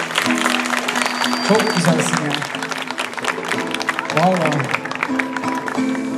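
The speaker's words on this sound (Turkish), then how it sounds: "çok kuvvetli bir alkış alabilir miyiz?" Audience applause and cheering for a hearing-impaired young man's guitar recital at a henna-night celebration, a steady clatter of clapping mixed with music and voices, with a person speaking over it close by.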